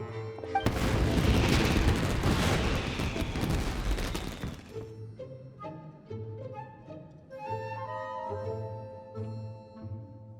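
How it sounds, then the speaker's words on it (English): Fireworks burst in the video game Genshin Impact, a loud crackling barrage lasting about four seconds that then drops away into the game's melodic background music. "Yoimiya, this is turning into a bit of a fireworks display"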